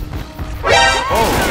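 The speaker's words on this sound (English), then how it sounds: "I hear the tank, but I can't see it" The Tank infected smashing things in Left 4 Dead at a boathouse, a heavy crashing impact followed by a screeching, ringing crash of debris, close and loud over a low rumbling game background.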